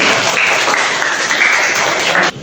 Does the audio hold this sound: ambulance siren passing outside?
no